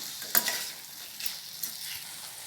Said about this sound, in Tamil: உருளைக்கிழங்க மசாலாவோடு அப்படியே கலந்து கொடுத்துடலாம்